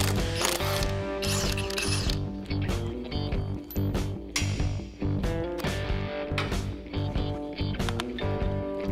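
A ratchet works the locking lug nuts on the original wheels of a 1977 International Scout II, giving rapid, close metallic clicking in repeated bursts with brief pauses.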